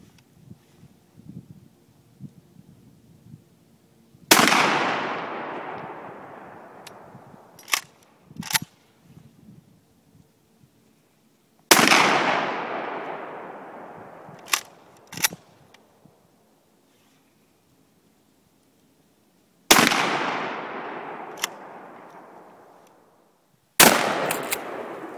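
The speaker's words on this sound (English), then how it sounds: ".25 shot with a 12 gauge 1-ounce slug." Remington M887 Nitro Mag Tactical shotgun fires 12 gauge 1-ounce slugs outdoors: three loud, sharp blasts spaced several seconds apart, each trailing off in a long echoing decay, with fainter clicks and clunks of the action between shots.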